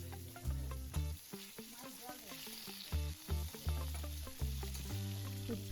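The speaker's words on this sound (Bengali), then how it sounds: "চিকেনটাকে আমি হালকা করে ভেজে নেব।" Chicken pieces frying lightly in a home kitchen pan, giving a steady, close sizzle that runs under louder, rhythmic background music throughout.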